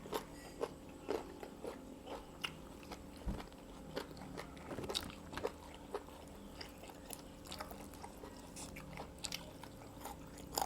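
Fried chicken wings with fish sauce, eaten with som tam, crunch as they are bitten and chewed: repeated soft, close crunchy bites with no talking.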